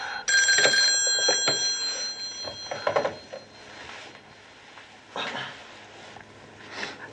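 A telephone bell rings near and loud in a short burst of metallic trills, followed by fainter clattering and quieter ringing, with no talk over it.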